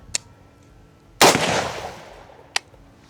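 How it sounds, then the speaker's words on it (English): A single loud .308 rifle shot cracks out, leaving a long, fading roar, with faint sharp ticks shortly before and after it. "now we're gonna shoot the 308"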